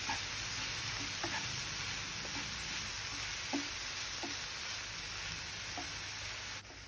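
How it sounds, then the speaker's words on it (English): Vegetables with salt, dry herbs and spices cooking in a pan, a soft steady sizzle with a few light scrapes and taps of a stirring utensil, quiet and close. "I'm going to add salt and dry herbs and seasoning and spices and stir and cook."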